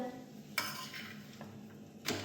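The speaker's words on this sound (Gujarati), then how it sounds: "આ ચમચીથી ઉથલાવ" A spoon scrapes and clinks against a hot pan while flipping a roti, with two sharp metallic knocks and a faint sizzle in between, close and fairly quiet.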